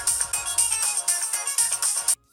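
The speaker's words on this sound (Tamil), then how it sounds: "கேட்டிங்க, ஃபோன் ரிங் ஆகுது." A mobile phone ringtone rings loudly and close in a home, a repeating electronic melody in regular pulses that cuts off abruptly near the end, with no voices over it.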